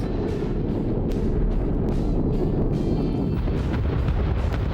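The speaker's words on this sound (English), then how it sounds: "The flares come in and they drop the bombs. And the explosions look absolutely spectacular." FA-18C jets dropping bombs in Arma Reforger, with loud continuous rumbling explosions and sharp blasts layered over a dense, heavy roar.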